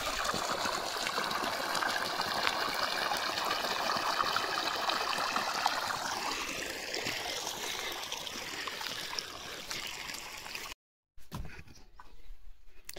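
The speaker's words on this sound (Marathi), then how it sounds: "टाकीतून पाणी." Water pouring from a tank to irrigate an onion field, a steady trickling and splashing stream that runs continuously for about ten seconds before cutting out briefly, then resumes faint and uneven.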